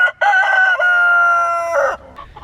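A rooster crows loudly and close by, one sustained cock-a-doodle-doo lasting nearly two seconds with a rising start and a dropping finish, alone without talk.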